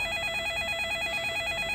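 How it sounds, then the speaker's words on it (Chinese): An office telephone rings with a steady, repeating electronic trill, heard clearly on its own with no talking over it. "接电话。"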